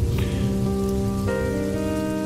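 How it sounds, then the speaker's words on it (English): Heavy rain pours steadily, a dense, unbroken hiss that stays loud and even throughout, with tonal humming layered over it. "The rain started pouring like maple syrup"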